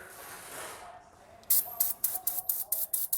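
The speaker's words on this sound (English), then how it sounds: "quick squirt with some brake cleaner" Aerosol brake cleaner sprayed under a car during an oil change, heard as a string of about eight short, loud hissing bursts after a brief quieter hiss, with no talk.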